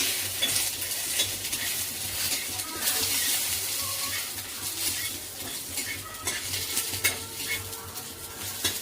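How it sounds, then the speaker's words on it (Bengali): Bay leaves, cumin seeds, and dried and green chillies tempering in hot oil, giving a steady close sizzle with light stirring and clinks of a utensil against the pan, no talk. "2টো তেজপাতা দিও আর জিরে ফোড়ন দিও আর শুকনো লঙ্কা আর কাঁচা লঙ্কা, এগুলো ফোড়ন দেবে।"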